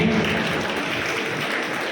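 Audience applause at an All India Radio event in Najibabad, a steady dense wash of clapping filling the room at even loudness throughout, with a faint voice underneath.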